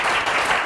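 Audience applause for the Leonfortese football club, a dense, steady wash of many hands clapping close and loud with no pauses.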